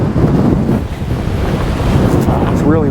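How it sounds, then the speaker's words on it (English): Strong wind buffets the microphone outdoors beside a historic former courthouse near a river, a steady loud roar of gusts and rumble throughout with no pauses. "it's really windy right now"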